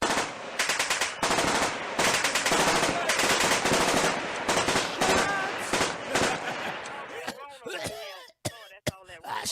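Rapid bursts of gunfire, a dense string of sharp cracks that thins into scattered single shots with echoing tails toward the end, loud and close.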